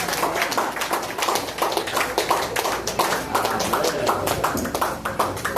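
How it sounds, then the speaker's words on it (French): Continuous clapping from a church congregation at a Sunday worship service, steady and fairly loud throughout, with a rhythmic pulse suggesting people clapping along in time. "On applaudit."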